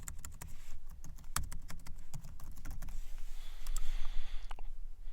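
Rapid computer keyboard typing and clicks while a button is added in an Excel VBA macro tutorial, crisp close-up key strikes in quick irregular bursts with no talking.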